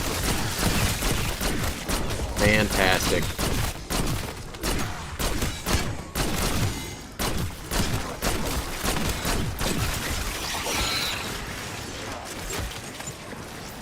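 Guns fire in the Black Ops 6 game in rapid, repeated bursts of loud sharp shots packed close together, with brief pauses between volleys and a short spoken remark partway through.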